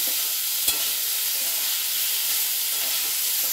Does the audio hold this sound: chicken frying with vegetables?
yes